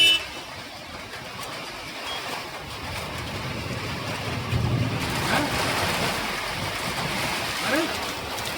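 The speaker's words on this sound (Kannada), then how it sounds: "ಗಾಳಿಯ ರಭಸಕ್ಕೆ ಮಳೆ ಹೇಗೆ ಹೋಗ್ತಾ ಇದೆ ಅಂತ" Heavy wind and rain during a storm in Sagar, heard as a steady, broad roar of gusting wind and downpour with rumbling buffeting on the microphone, loud and continuous, swelling slightly toward the end.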